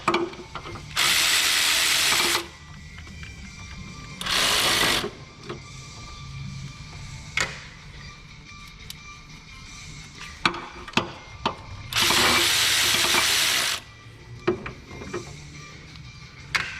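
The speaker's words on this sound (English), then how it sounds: "we can go ahead and remove the pulley bolts, removing one at a time" A ratchet clicks in several loud, rapid bursts as the water pump pulley bolts come off a Chevy Impala, with quieter clinks and tool handling in the pauses between.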